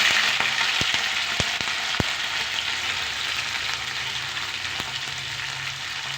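Mustard seeds, chana and urad dal and curry leaves tempering in hot oil, a loud continuous frying hiss with a few sharp pops and crackles early on, no speech.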